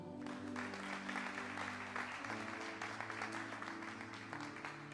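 Steady applause from a church congregation blends with sustained music in the background, continuous and moderately loud throughout.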